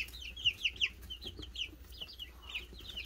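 Young chicks that are starting to grow feathers cluck and peep in quick, high-pitched bursts close by, a steady busy chatter with no talking.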